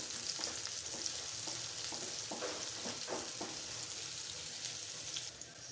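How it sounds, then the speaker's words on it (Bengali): Chopped onion frying in a pan until soft, giving a steady broadband sizzle with a few soft stirring scrapes; no talking. "পেঁয়াজটাকে নরম হওয়া পর্যন্ত ভেজে নেব।"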